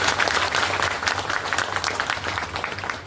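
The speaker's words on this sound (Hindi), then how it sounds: "आपके लिए भी एक बार जोरदार क्लैपिंग होनी चाहिए।" Applause fills a business seminar hall in Thane: a crowd claps briskly and evenly, loud at first and easing slightly toward the end.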